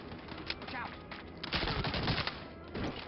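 Rapid gunfire in a video game, a dense crackling burst of shots that swells in the middle and tapers off, fairly quiet and compressed, with no talking.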